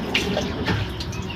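Water pours into lemon juice in a small container, giving a steady splashing, trickling stream with no voices over it.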